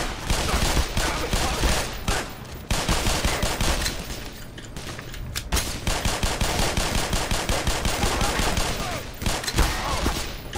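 Sustained automatic gunfire in the Black Mesa shooter game, long rattling bursts with brief pauses, loud and close, while a voice talks intermittently over the shooting.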